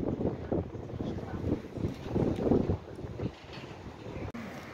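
Gusty wind buffets the microphone outdoors in Berlin, near a bridge and canal, a steady broadband rush that swells and eases across the clip with a brief knock near the end.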